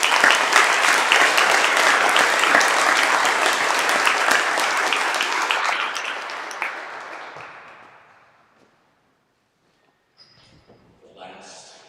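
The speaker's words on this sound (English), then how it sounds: "So a round of applause for Cassie." An audience claps and applauds loudly, then the applause fades to silence; a voice begins speaking at the end.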